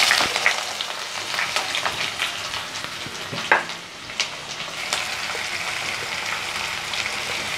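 Chopped onions frying in hot oil with whole spices such as clove and cardamom, a steady close sizzle and crackle that runs the whole time, with occasional louder pops and stirring scrapes.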